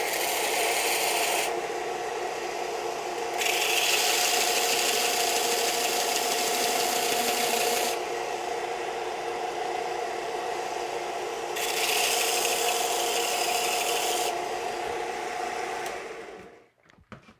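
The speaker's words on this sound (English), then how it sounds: "It's just barely sanding anything off." Light sanding on a prop E22 blaster rifle makes a soft, steady rasping that comes in long alternating stroke passes, close and moderately quiet, with no talking.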